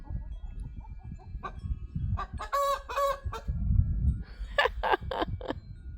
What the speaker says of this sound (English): that's his little crowing rendition for today.